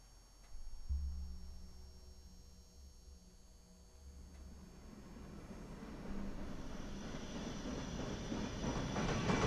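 A delayed train pulls into a station after midnight, beginning as a low distant rumble that builds steadily into a broad, louder roar of wheels and carriages as it nears.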